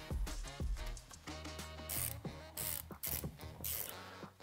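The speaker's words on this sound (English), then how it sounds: "All you need for this is a simple 8mm socket and a ratchet." Ratchet and 8mm socket turning bolts on a Beta 300 RR power valve adjuster, a loud, busy run of clicking and mechanical rattles close to the mic, with several bright metallic bursts and no speech.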